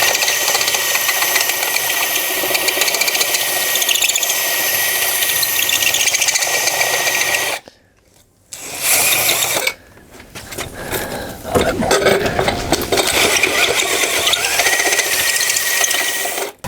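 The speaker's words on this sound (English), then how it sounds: "I'm gonna go to low speed for the sake of the drill and the bit." An electric drill fitted with a 3/4 inch step bit grinds at low speed through a case, loud and close, with a brief stop partway and a rougher, scraping burst afterward.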